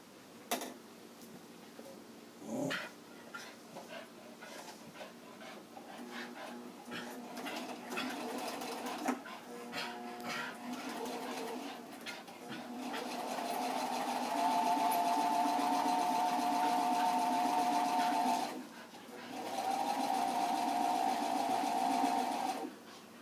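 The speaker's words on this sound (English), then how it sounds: "And now I'll sew it." A sewing machine stitching a birthday quilt, starting with a few short ticking bursts before settling into a long, steady close whir that pauses briefly and resumes.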